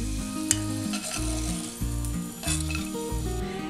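Peanuts roasting in hot oil, giving a close, steady sizzle with a few sharp clinks from utensils, partly masked by a rhythmic low droning background.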